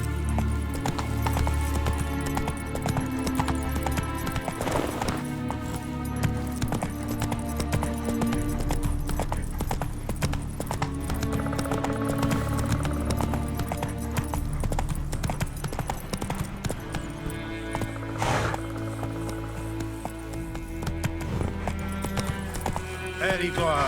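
Roach, a horse in The Witcher 3, gallops with rapid, rhythmic hoofbeats that drum steadily throughout, layered over dense game music and ambience.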